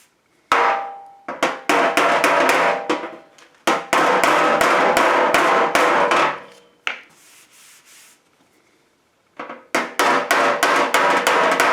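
Rapid, steady hammer taps on the metal body panel of a 1969 Mustang fender, repeated in long runs with short pauses between, close and fairly loud.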